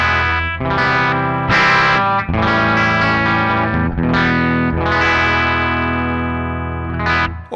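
Electric guitar played through a Joyo American Sound amp-simulator pedal gives loud, crunchy, overdriven chords and single notes with a chorused, echoing tone, played alone in a continuous phrase.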